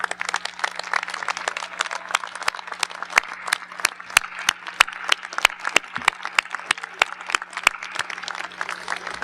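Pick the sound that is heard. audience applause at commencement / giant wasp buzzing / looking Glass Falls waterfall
audience applause at commencement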